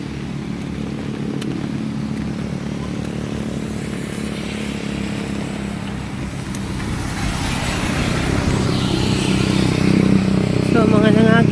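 Vehicles drive along a flooded road in Monkayo, Davao de Oro, giving a steady engine rumble and wash that grows louder toward the end, with people talking over it.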